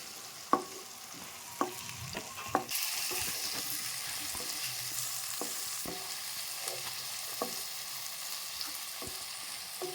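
Cleaned prawns, tails and shells removed, sizzle steadily in a pan over chopped onions. The frying starts loud and stays constant, with sharp clinks and scrapes of stirring scattered throughout and no talking.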